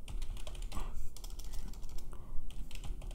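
Brisk clicking keystrokes on a computer keyboard, heard up close as an irregular run of taps with no voices.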